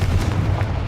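Confringo fire spell blasting in Hogwarts Legacy, a dense booming explosion burst that fills the whole second with heavy low rumble.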